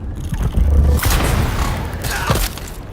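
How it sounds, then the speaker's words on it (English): A grenade blast in the video game Dune Awakening, heard as a loud low boom with a thud, followed by clattering debris and further impacts over steady game noise. "Throwing grenade!"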